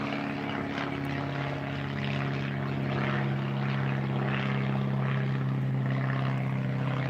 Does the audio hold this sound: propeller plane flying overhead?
yes